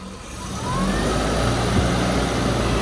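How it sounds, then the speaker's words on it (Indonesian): A 1994 Suzuki Katana motorcycle engine runs steadily at close range, its low rumble rising as the throttle opens and then holding at a higher, even drone to the end. "Seperti ini kondisi mesinnya saat hidup. Coba kita gas."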